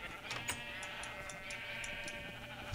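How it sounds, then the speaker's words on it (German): Sheep bleat in a Minecraft game over a constant droning background, with several short bleats scattered through the stretch at moderate loudness from a large flock, with no talking. "irgendwie haben wir auch viel zu viele Schafe"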